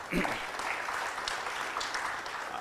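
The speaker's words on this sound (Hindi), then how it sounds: "उनके लिए जोर से एक ताली बजा सकते हैं" Audience applause at an inaugural session of an organisation's anniversary event, a continuous spread of clapping with some voices audible underneath.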